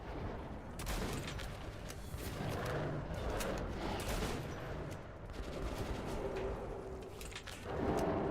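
Dense, crackling video game gunfire, shotgun blasts mixed into a busy stream of repeated shots and bursts, loud and continuous across the whole stretch with no talking.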